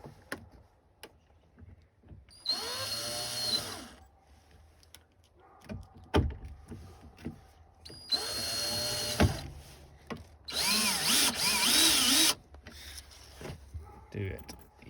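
Power drill driving screws to mount a replacement speaker in a 1999-2003 Chevrolet Silverado crew cab door: three bursts of whirring of about two seconds each, each ending in a tightening bite, separated by quieter handling clicks.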